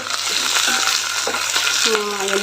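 Green chilies fry in hot oil with coriander seeds and mustard seeds, making a loud, close, hissing sizzle with sputtering pops and crackles throughout.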